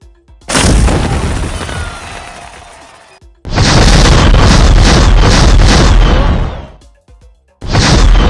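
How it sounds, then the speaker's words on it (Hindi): Diwali firecrackers going off, loud and close: a long roaring blast with dense crackling, then a second sustained burst of rapid pops and bangs, and a third starting at the end. "तुम लोग इतने बड़े और इतने सारे पटाखे फोड़ोगे"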